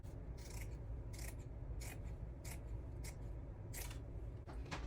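Scissors snipping through pipe cleaner during wreath-making, about eight short crisp cuts in an uneven rhythm, close and quiet over a low background hum.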